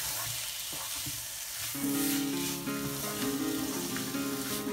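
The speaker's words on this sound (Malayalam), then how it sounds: "നമുക്ക് ഇതിലേക്ക് ഗ്രേറ്റ് ചെയ്തെടുത്ത് ക്യാരറ്റും ചേർത്ത് കൊടുക്കാം." Grated carrot hits a pan of semolina and vermicelli upma, and a bright, close sizzle swells and holds steady with occasional stirring scrapes, no voices over it.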